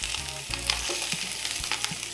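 Spare ribs sizzle and crackle in a hot pot, browning for Korean gamjatang, with a few low clunks of the pan being moved under the bright, steady frying hiss.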